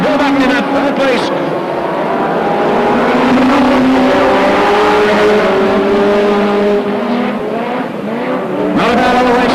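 BriSCA F1 stock cars roar down the home straight at Northampton, loud sustained engine drone with rising and falling pitch as cars pass close by, under continuous commentary.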